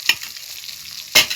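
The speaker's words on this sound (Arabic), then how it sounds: "حمر الدقيق بتاعي علشان يديني نتيجه كويسه" Flour toasts in a hot pan with a spoon scraping through it, a short close sizzle framed by two sharp stirring scrapes at the start and end.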